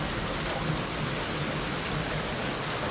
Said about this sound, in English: A nice rainy day.